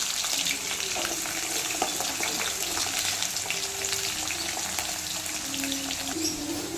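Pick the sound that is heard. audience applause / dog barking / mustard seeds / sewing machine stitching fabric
mustard seeds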